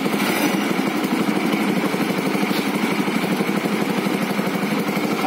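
An engine-driven groundnut pod stripping machine runs steadily at normal speed, a loud, continuous mechanical drone with a rapid rattling pulse that stays constant throughout with no pauses.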